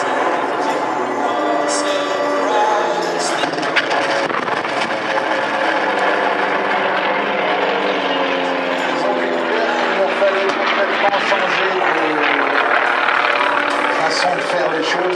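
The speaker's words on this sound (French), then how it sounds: "C'est un hélico fait chez Sikorsky." Sikorsky Sea King helicopter flying at an air show at La Ferté-Alais, a loud, steady rotor and turbine roar that runs throughout while an announcer speaks in French over it.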